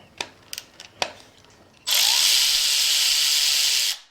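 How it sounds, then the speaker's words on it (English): A power drill backs small Allen bolts out of a Datsun's 2JZ engine: a few light clicks and taps, then one loud, close, continuous whirring run of about two seconds that stops abruptly. "Get these two little Allen bolts out real quick"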